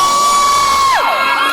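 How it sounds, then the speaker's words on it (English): A crowd at the MEFCC2020 event in Dubai cheers and whoops loudly, with a high sustained shout that breaks into sliding yells. "If you think the girl should win, cheer now!"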